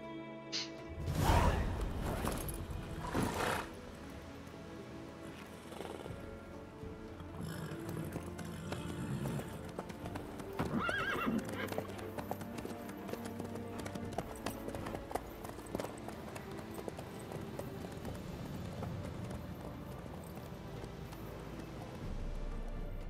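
Horse hooves in The Witcher 3 clop in a loose, fast rhythm, with a few louder strikes near the start and then a steady patter behind faint game ambience and music.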